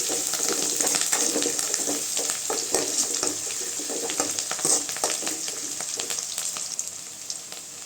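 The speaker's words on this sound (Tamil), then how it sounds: "வெங்காயம் நல்லா செவந்து வறுத்துங்க" Onions with curry leaves frying in a pan for a goat intestine curry, giving a steady close sizzle with a broad hiss that runs unbroken, plus light crackles and scattered stirring scrapes, with no talk.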